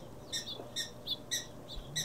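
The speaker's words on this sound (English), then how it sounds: "so these are the cute animals, prairie dogs, and they make sounds like this" Prairie dogs give a run of about five sharp, high chirping calls in a quick, evenly spaced series, faint and heard alone over a light background hiss.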